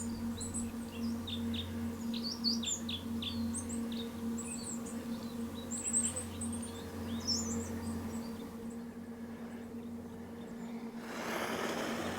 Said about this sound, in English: The birds here are already in spring mood.